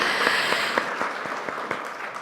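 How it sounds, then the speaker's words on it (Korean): Brief applause from attendees at a parliamentary policy forum on firefighters, a room of hands clapping steadily with a few sharper claps standing out. "서로를 위해서 박수 한번 다시 한번 주시기 바랍니다"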